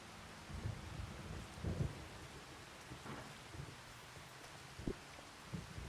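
Rain patters steadily during a nighttime storm in Farming Simulator 25, with low rumbles of thunder rolling faintly underneath; the scene is quiet and distant, with no voices.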